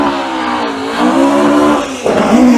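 A Ford Escort Mark II race car drives past on the Goodwood Motor Circuit, its engine loud and close with a steady rising note, then a sharp shift and renewed hard acceleration near the end.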